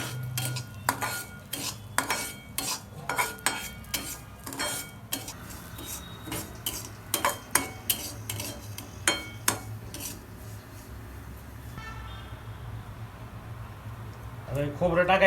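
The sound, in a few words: roasting ingredients while stirring in a pan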